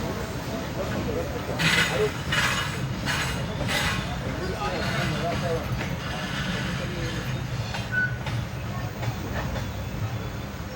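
The Nizamuddin–Ernakulam Duronto Express creeps slowly out of Panvel, a steady low rumble with faint rail clicks. A few short clanks come through over the course of the run, and the hum of a sleeper coach carriage sits underneath.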